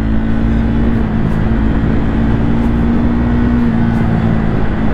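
A 2024 Triumph Speed 400, a 400cc motorcycle, drones steadily while riding, with a loud, continuous engine hum and road and wind rumble that never lets up, and no voices over it.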